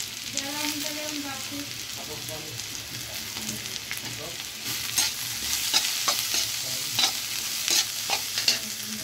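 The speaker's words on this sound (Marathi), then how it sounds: "थोडासा कांदा भाजला की लगेच हे आपल्याला भाज्या टाकून द्यायच्या" Vegetables stir-fried with onion in a pan for Yippee noodles, a steady close sizzle with repeated scraping stirs and utensil knocks, rising a little louder midway, no talk.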